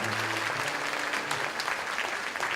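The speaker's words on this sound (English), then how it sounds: "Give them a nice round of applause." Audience at a benefit concert for Puerto Rico and the Caribbean applauding a school class, steady crowd clapping filling the whole moment at moderate level.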